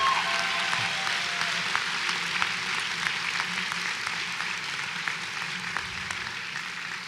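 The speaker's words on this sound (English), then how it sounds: "Let's give them a round of applause." Applause rises from the audience at a 2017 Gavilan College graduation ceremony: a steady, moderately loud wash of clapping that holds for several seconds, then gradually fades.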